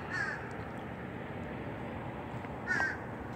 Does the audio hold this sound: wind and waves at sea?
no